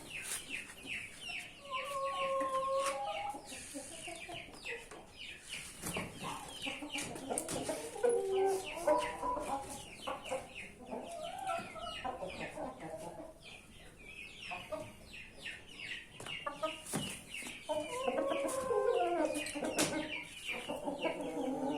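Indio Gigante hens cluck in short, repeated bursts at close range, with a few louder clucking phrases standing out over a steady farmyard background.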